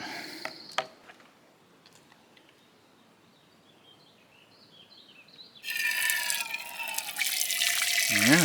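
Water gushes into a container outdoors on a summer hike, starting abruptly after a quiet stretch with insects faintly chirping, then a loud, steady rushing pour. A brief voice is heard.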